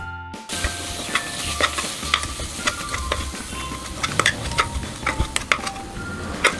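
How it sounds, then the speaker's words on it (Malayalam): Turmeric, coriander, chili powder, chicken masala and yogurt frying in a pan for chicken curry, with a steady close sizzle and repeated scraping stirs of a spoon throughout, no talk. "1/2 സ്പൂൺ മഞ്ഞൾപ്പൊടി, 1 സ്പൂൺ മല്ലിപ്പൊടി, 1 സ്പൂൺ മുളക് പൊടി, 3 സ്പൂൺ ചിക്കൻ മസാല, 2 സ്പൂൺ തൈര് ഇവയെല്ലാം നല്ലതുപോലെ മൂപ്പിച്ചെടുക്കാം"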